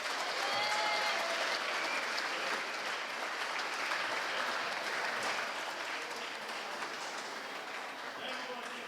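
Audience applause at the opening of a climbing centre in Prevalje, a dense steady clapping from a crowd that holds loud and even for the whole stretch, with faint voices mixed beneath.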